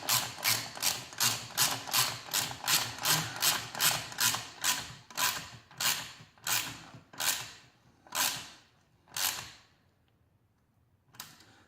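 A ratchet wrench tightens an exhaust bolt on a Honda Grom motorcycle, giving a long run of rhythmic clicking strokes that slow and space out toward the end, close and clear with no talk.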